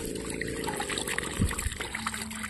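Water from a water pump under test gushes and trickles continuously, a steady wet rush with a low hum running underneath and a brief thump midway.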